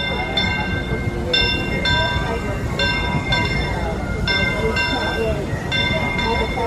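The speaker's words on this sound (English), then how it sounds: "the train's actually coming by right now" Fred Gurley, a Disneyland Railroad steam train, passes close by with a steady rumble and rolling clatter, while short repeated whistle-like tones ring out over it; people talk and cheer nearby.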